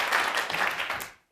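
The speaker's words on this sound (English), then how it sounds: "I love the clapping" A short burst of audience clapping, fairly soft and even, breaks off abruptly after about a second.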